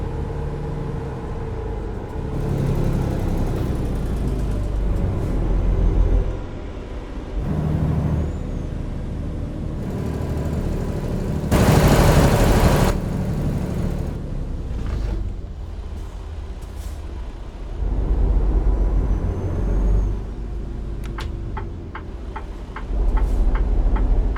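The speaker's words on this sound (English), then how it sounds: "I am enjoying this engine mod that we have running." Modded truck engine in American Truck Simulator rumbles steadily and loudly, with a sharp air brake hiss midway and a ticking indicator near the end.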